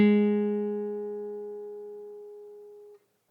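A single sustained note rings from a guitar and decays slowly for about three seconds, clean and close, with no second pitch audible, ending in an abrupt cutoff.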